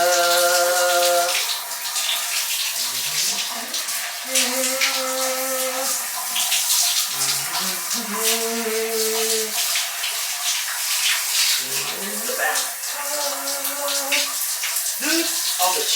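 Water runs steadily into a bathtub, a continuous close rush, while a person hums and sings a wordless melody over it.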